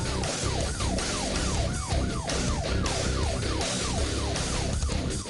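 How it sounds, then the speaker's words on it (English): Several police patrol car sirens wail at once during a vehicle pursuit in a fast, repeating up-and-down yelp, loud and continuous over traffic noise. "patrol cars running lights and sirens"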